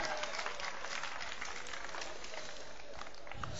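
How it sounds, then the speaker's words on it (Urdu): Audience applause welcoming a poet at an Indian mushaira in Lohta, dense steady clapping from a large crowd throughout, close and even in volume. "آئیے تھوڑا تالیوں سے استقبال کر لیجئے"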